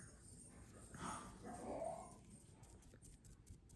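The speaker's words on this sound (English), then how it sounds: "Oh, I hear my dog in the background." A dog gives a brief whimpering, yipping bark twice in the background during an indoor paper-bead craft session, faint and at a distance.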